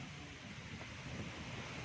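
Wind on a bright, breezy day during an outdoor jog, a low continuous rumbling buffet against the microphone, steady and fairly soft throughout.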